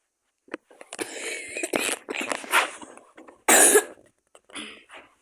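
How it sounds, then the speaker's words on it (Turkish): A person coughs several times in close, harsh bursts, separated by short pauses and breathy sounds. "Vallahi çok pis öksürüyorum"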